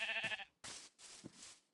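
Sheep in a video game bleat three times in quick succession, short nasal calls separated by brief silences, fairly quiet and with no voices over them.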